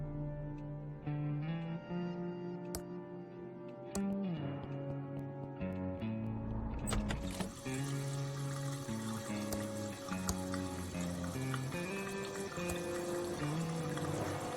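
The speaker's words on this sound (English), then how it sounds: "The glass is now filled with water." Water pouring into a glass in the adventure game Thimbleweed Park, a quiet liquid trickle over layered game music that swells louder partway through, with no voices.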